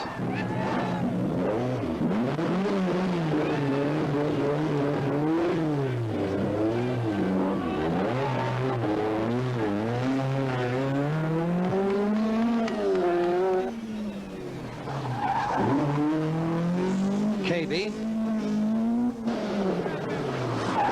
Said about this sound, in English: Fisher and Demuth are all tidy at this hairpin